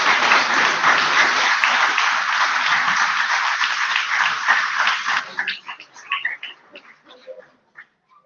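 Audience applause for the seamstresses of wedding dresses at an awards ceremony following a bridal fashion show, loud dense clapping that holds steady for about five seconds, then thins into scattered claps and fades.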